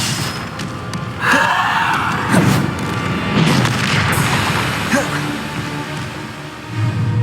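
Bombarda explosion spells from the Hogwarts Legacy video game land as several heavy booms and thuds amid swirling magical combat effects, loud and close, with occasional voices in the fight.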